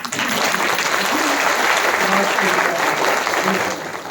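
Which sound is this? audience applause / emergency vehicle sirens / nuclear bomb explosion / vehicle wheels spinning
audience applause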